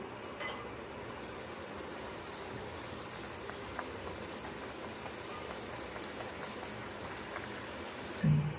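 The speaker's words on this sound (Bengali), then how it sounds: "এখন আমি সমুচাগুলোকে ডুবো তেলে ভেজে নিচ্ছি" Chicken samosas deep-fry in hot oil with a constant, dense sizzle and bubbling that runs steadily throughout at moderate loudness, ending in a brief louder bump.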